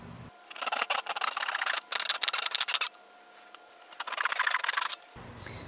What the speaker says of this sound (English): Now we'll use our handsaw to cut out our marking.